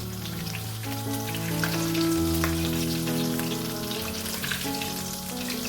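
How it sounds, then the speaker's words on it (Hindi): Cumin and nigella seeds crackle and sizzle steadily in hot oil, a dense continuous frying hiss with some tonal hum underneath, no voices. "इसमें हम जीरा और कलौंजी सबसे पहले ऐड करेंगे और इसको हम थोड़ा सा करेंगे फ्राई।"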